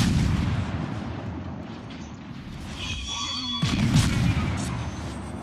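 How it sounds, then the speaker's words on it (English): Naval gunfire from a destroyer in a video game: heavy booming rumble with muffled low thumps, fading then swelling again, with a brief tonal whine midway. "he throws off 2 rounds at me."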